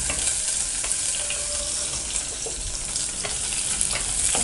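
Shallots sauté in a pan for sambar, giving a continuous loud hissing sizzle with occasional soft stirring scrapes, close up and with no voices.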